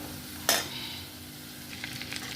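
Prawns frying in hot oil, a steady close sizzle with one sharp spatter near the start and small crackles and pops toward the end, no voices.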